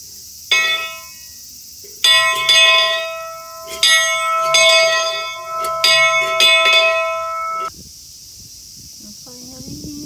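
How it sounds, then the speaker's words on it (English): A temple bell in Osaka, Japan, struck several times, with bright metallic ringing strikes that overlap and sustain close by, then fade out, followed by a brief murmur of voices. "let's ring that bell"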